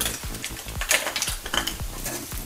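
Paneer pepper masala stirred in a sizzling pan: a spoon scrapes the pan repeatedly, with clinks and soft knocks over a steady fry hiss, close and alone.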